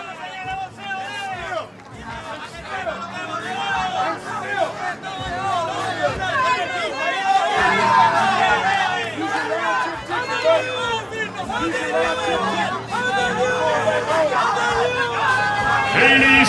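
A large crowd at a boxing weigh-in fills the venue with continuous chatter, shouts and occasional whoops, a dense, lively hubbub that swells and stays loud throughout, with voices layered over one another.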